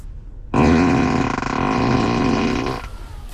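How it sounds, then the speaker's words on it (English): A Tesla car's built-in fart sound effect plays as one long, loud, buzzing blast that rises, wavers and cuts off abruptly, with quiet background before and after. "the ability to make fart sounds on demand has been included as a standard feature in every Tesla"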